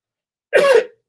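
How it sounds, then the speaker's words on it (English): A single short cough at close range, one rough burst about half a second long in otherwise silent surroundings. "Are you coughing a lot or something?"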